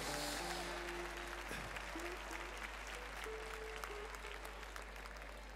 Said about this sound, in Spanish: para los que os pido un aplauso muy, muy fuerte